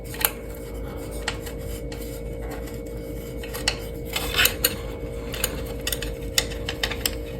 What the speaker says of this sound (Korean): 물통 케이지야 뭐 교체하는 거 되게 간단하죠 볼트 두 개 빼서